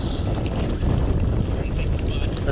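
Wind buffets the microphone at a busy river boat ramp in Florida, a loud rushing roar with boat and water noise beneath and a voice speaking briefly.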